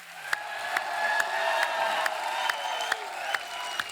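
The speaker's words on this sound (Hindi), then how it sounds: "एक बार जोरदार तालियां हमारे मेहमानों के लिए।" A studio audience on a comedy talk show applauds its guests, a short crowd burst with cheering under a rhythmic series of sharp accented beats, loud and close, about four seconds long.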